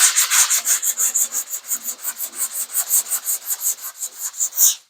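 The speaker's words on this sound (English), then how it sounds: "I'm just scuffing it, not doing a whole lot with it." Hand sanding scuffing a car body panel before 2K primer, a quick regular series of rasping back-and-forth strokes, loud and close, with no talking.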